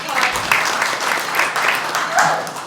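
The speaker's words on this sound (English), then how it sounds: "feel free to applaud" Audience applause for a startup co-founder at a business talk, dense loud clapping, close and continuous for a few seconds.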